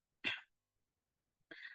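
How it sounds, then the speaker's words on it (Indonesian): Two short, sharp coughs from someone speaking at an Islamic talk, close and clear, separated by about a second of silence. "saya batuk"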